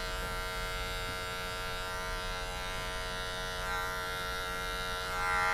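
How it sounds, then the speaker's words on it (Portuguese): An electric hair clipper buzzes steadily and close up while its corner teeth detail a mid fade haircut, a continuous motor hum with no talk. "usa o cantinho da máquina, os 3 dentinhos da máquina"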